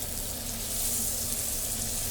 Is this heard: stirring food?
yes